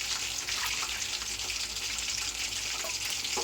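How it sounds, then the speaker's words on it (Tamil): Water pours from glasses into a pot of rice for chicken 65 biryani, a steady splashing gush that runs unbroken and close for a few seconds. "இதில் வந்து தண்ணி ஆட் பண்ணிக்கலாம்"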